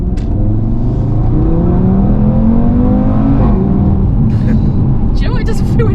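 An Audi TT RS with a DAZA engine launches hard from inside the cabin, its engine rising through several rapid upshifts in a loud, continuous drone, while occupants talk over it.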